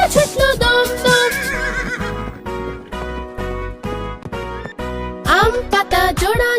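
A horse neighs in loud, high whinnies at the start and end, with rhythmic pounding beats between them like a galloping effect, set against music.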